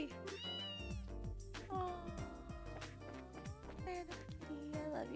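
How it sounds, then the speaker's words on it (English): Game cat from Trails in the Sky meowing in several short, rising and falling calls over game music, with a person talking briefly. "Oh no, it's a kitty. It's a random kitty."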